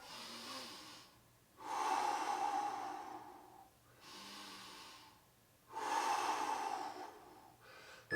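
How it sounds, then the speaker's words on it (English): Heavy recovery breathing between workout intervals, two long loud exhale-heavy stretches with quieter breaths between, close and alone. "Good, recovery breaths."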